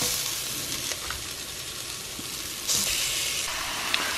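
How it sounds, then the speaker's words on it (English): Browned oxtail returned to a pot of vegetables, giving a steady, close frying sizzle with a brief surge partway through and light stirring clatter. "So I'm gonna add my oxtail back to the pot."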